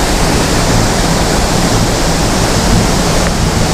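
An enormous waterfall in Zambia thunders up close from a rickety platform over the water, a steady, loud, broadband roar that fills the scene without pause.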